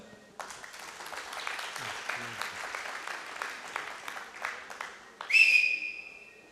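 Audience applause welcoming architect Sikander Ajam onto the stage at the IAPEX 2025 session, steady clapping of a moderate crowd that runs for several seconds, with a brief sharp whistle near the end.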